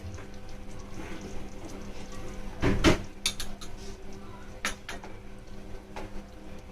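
Fresh cream being added and stirred into paneer lababdar curry in a pan with the gas off: a few sharp spoon clanks against the pan and soft scraping, fairly quiet, with no talk.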